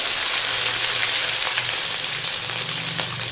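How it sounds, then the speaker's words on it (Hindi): Ginger garlic paste, two tablespoons, sizzling and frying in hot ghee for a fish curry, a steady dense crackle holding evenly loud and close throughout with faint stirring scrapes underneath. "घी काफ़ी गर्म हो चुका है। यहाँ अब हम इसमें शामिल करेंगे 2 खाने के चम्मच अदरक लहसुन का पेस्ट।"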